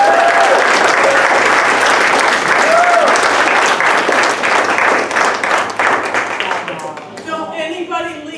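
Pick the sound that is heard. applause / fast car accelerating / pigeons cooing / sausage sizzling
applause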